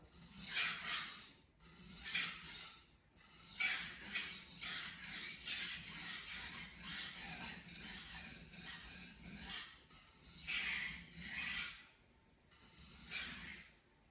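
A KAI Santoku knife of VG10 steel drawn across a wet waterstone to reduce the burr, giving repeated close rasping strokes in steady bursts with short pauses, alone without talk.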